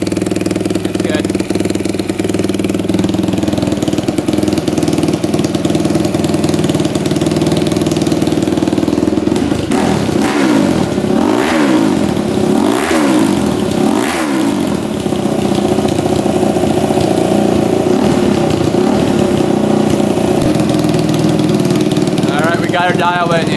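A dirt bike engine runs after a valve adjustment, idling steadily and loud up close, then revved in several quick throttle blips before settling back to idle, with someone talking over it.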